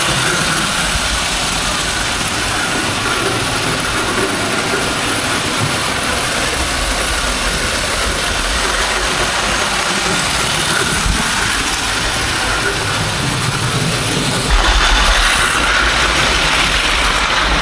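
A steady mechanical whir of a 101-year-old toy model train running continuously, with a constant hum and rattle and a slight shift near the end.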